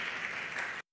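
An audience breaks into steady applause, a dense even clatter of clapping that cuts off abruptly near the end.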